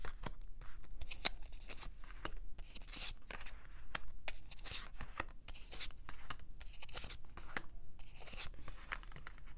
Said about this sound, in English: Let me pull all the cards here.